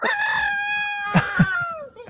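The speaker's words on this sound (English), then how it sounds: "Now we got a rooster." A rooster crows in a long, loud, harmonic cock-a-doodle-doo that holds steady and falls off at the end, with two short thuds partway through and no talking.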